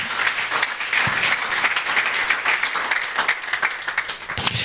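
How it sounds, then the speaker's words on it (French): A church congregation breaks into loud, sustained applause, many hands clapping together close by for the whole stretch, with a brief voice near the end. "Est-ce qu'on peut acclamer pour la parole de Dieu?"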